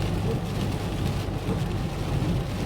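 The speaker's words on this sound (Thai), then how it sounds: "ฝนก็ถือว่าตกเรื่อยๆครับ" Heavy rain from tropical storm Podul falls steadily on the road toward Nang Rong district, Thailand, a dense continuous wash of noise with a low rumble beneath, as if heard from inside a moving car.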